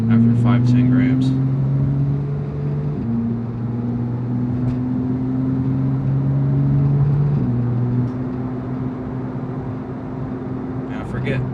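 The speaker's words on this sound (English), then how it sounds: "I forget how obnoxious this exhaust is every time" A loud straight-piped Porsche GT3 exhaust drones and burbles close by, its engine tone shifting in pitch, with short sharp pops and crackles at the start and end.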